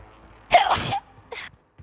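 A single sharp human sneeze, close and loud, with a short breathy gasp just after and a brief faint noise at the end.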